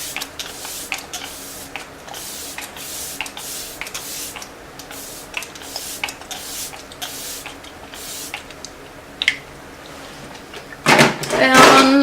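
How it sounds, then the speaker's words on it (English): Kat Von D Lock-It Setting Spray misted onto a face: a short, close burst of spray hiss near the end, after a stretch of soft ticking and handling noises. "Let's go ahead and set it with the Kat Von D Lock-It Setting Spray."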